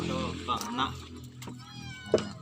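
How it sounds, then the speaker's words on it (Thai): A cat meows several times in a rural village kitchen, short close calls with one sharper cry near the end, mixed with people talking nearby. "แมวก็มีเลยพี่น้อง"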